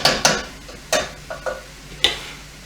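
Stir fry cooking in a pan gets stirred with a utensil, giving a handful of sharp scraping clacks against the pan at irregular intervals over a faint sizzle.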